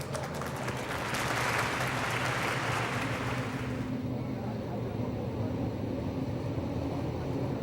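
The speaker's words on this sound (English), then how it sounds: "Nice round of applause for your winner in the 18T, Mr. Clark Templeman." A speedway crowd at a sprint car and midget race meeting in Ventura, California applauds a race winner, a distant swell of clapping that fades after a few seconds into rumbling outdoor track ambience.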